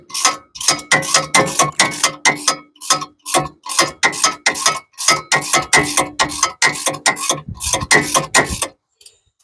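Ratchet wrench on a bolt at the front hub of a 2012 Chevy 3500HD, clicking in rapid bursts with brief pauses for about nine seconds, close and loud, with no talking.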